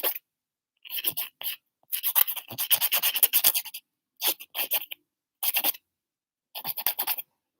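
A file rasps across fingernails during a manicure in short, close scratching bursts separated by quiet gaps, some strokes quick and clustered, others isolated.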